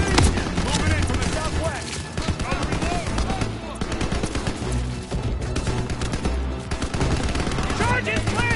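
Intense World War II machine gun fire from the Call of Duty WW2 game, Hill 493 in the Battle of the Bulge, with loud sustained rapid bursts and overlapping gunshots, dense and close throughout.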